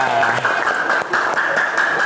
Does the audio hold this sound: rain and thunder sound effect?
no